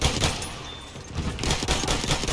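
Gunfire in the video game Battlefield 1: rapid automatic bursts and shots crackling close and loud in a chaotic battle, with a short lull before the firing resumes.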